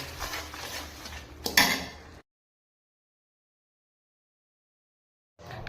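Rice being stirred and roasted in a pan for rice burfi, heard as a couple of seconds of scraping and clinking with a sharper clatter, then the sound cuts out into silence before resuming briefly at the end.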